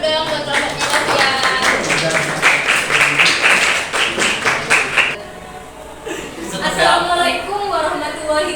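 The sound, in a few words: applause for Novia's group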